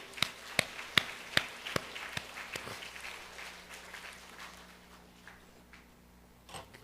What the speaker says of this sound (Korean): 하나님께 박수의 영광을.